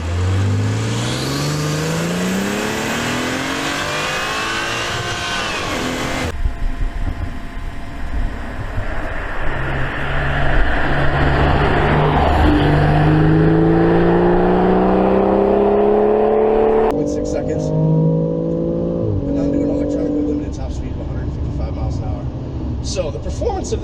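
A 2018 BMW X3 M40i SUV launches hard with launch control, its turbocharged straight-six surging upward through several rising gear pulls, each shift dropping the pitch before it climbs again, loud and close throughout with a voice talking over parts of it.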